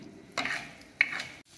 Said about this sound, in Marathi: या सगळ्यांना छान परतून घेऊ